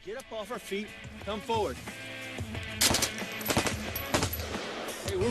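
Machine gun fire in bursts of sharp cracks under someone speaking in French, with the shots close and loud against the voice.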